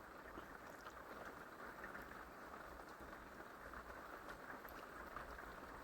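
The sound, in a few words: rain falling on RV metal roof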